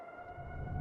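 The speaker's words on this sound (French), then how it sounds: "C'est la sirène d'inondation de Manitou." Flood warning siren in Manitou wailing at a steady held pitch from far off, faint and alone under a low rumble of wind or distant background noise.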